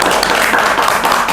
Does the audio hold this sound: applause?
yes